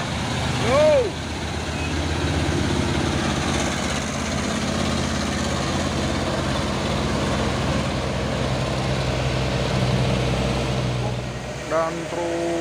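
Heavy trucks labour up a steep uphill road in Sorong with a continuous deep engine rumble and a loud idling drone. Brief chirping tones cut in near the start and end.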